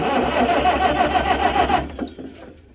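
The engine of a 1955 Farmall 300 tractor, after sitting for 14 years, runs in a loud, close, uneven chugging for under two seconds, then cuts out and falls quiet.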